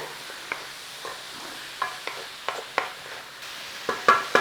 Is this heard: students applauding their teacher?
no